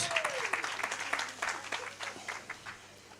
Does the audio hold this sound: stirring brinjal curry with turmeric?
no